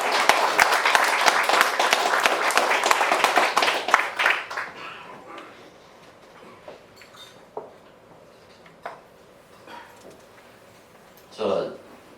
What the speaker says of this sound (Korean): 이럴 때 저 조교가 박수도 하고 그래요